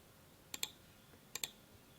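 Two quick bursts of computer keyboard typing, each a short cluster of crisp key clicks, sounding faint in an otherwise quiet room.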